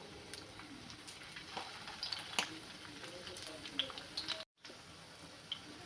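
Methi vadas fry in shallow hot oil with a soft, steady sizzle and a few faint crackles and ticks, quiet and close, broken by a brief dropout near the end.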